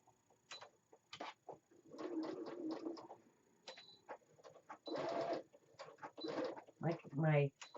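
A home sewing machine stitches a fabric face mask in short whirring bursts, close and fairly quiet, separated by pauses and small handling sounds.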